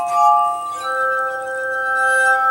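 Glass harmonica, the rotating-glass instrument invented by Benjamin Franklin, sounding sustained pure tones that swell into a chord, a higher note joining partway through and ringing steadily to the end, close and clear with no talking.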